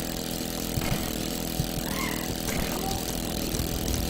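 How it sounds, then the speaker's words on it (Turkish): A continuous car engine drone from the video game Bully: Scholarship Edition, with a steady rumble and faint whine, constant and fairly loud, no voices. "Bu arabanın sesi de çok güzel lan"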